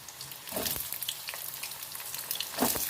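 Onions sauté with garlic and ginger in a pan, giving a soft, steady sizzle with a couple of clattering stirs of a spatula near the start and end.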